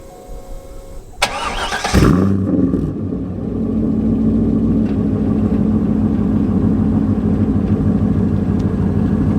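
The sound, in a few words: sports car engine cold start, no mufflers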